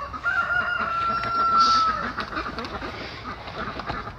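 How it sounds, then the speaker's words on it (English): A rooster crows nearby, a drawn-out call rising and falling over soft background noise and a few faint clucks. "That rooster does not shut up."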